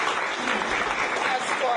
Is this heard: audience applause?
yes